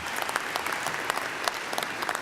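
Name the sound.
audience applause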